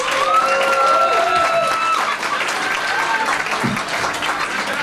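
An audience at a pub stand-up comedy show claps loudly in a dense, sustained burst of applause that slowly thins toward the end.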